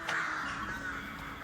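A crow caws at a zoo in Târgovişte, Romania, one loud harsh call near the start with a rougher trailing tail, close and clear over faint background murmur.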